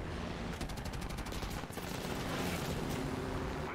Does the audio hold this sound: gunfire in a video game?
yes